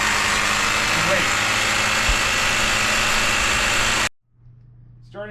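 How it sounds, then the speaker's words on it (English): A tractor engine runs steadily and loudly during baseball field preparation, a continuous droning hum that cuts off abruptly near the end before faint voices are heard. "Starting the tractor, make sure the throttle is down in a low setting, the choke is in, and the key is in run."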